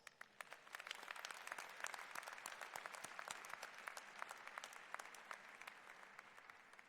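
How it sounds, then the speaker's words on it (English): Graduates and guests at a 2025 undergraduate commencement ceremony at University of Detroit Mercy applaud together, a sustained wash of many hands clapping that sounds somewhat distant and fairly quiet, lasting several seconds. "you deserve at this moment to exhale and to give yourselves a big round of applause"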